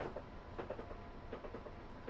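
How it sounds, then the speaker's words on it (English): A train runs along a railway line near Purley on the London to Brighton route, its wheels giving a steady, fairly faint clickety-clack rhythm over a continuous rumble, with no voices. "there's a train coming up"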